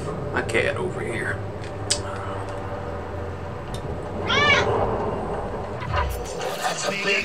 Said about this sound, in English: My cat over here.